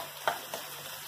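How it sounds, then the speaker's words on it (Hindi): Chopped green chillies sizzle in hot oil in a pan while an egg masala curry is cooked, a faint crackling hiss with two brief spitting bursts. "इसी के साथ हम हरी मिर्च जो है इसके अंदर कट करके डाल लेंगे।"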